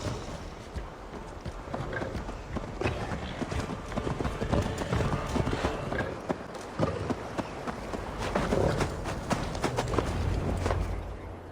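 Galloping horse hooves in Assassin's Creed Valhalla, a rapid continuous clip-clop rhythm close by, with light spoken dialogue and faint neighs mixed in.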